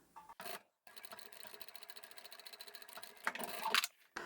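A sewing machine stitches a toiletry bag, running in a fast even rhythmic whir of needle strokes for about two seconds after a couple of short starts, then speeding up briefly before stopping.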